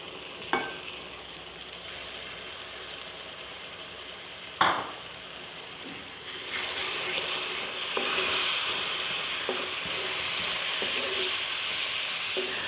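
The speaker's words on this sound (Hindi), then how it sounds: "तकरीबन 5 मिनट टमाटर के साथ भून लेती हूँ।" Minced chicken keema frying in a pan with garlic, ginger and tomato paste, a steady close sizzle with occasional stirring scrapes and knocks of a spoon against the pan.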